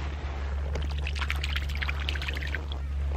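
Lake water swished and stirred by hand, producing soft splashing and gurgling trickles in irregular bursts over a steady low background hum, close by with no talk.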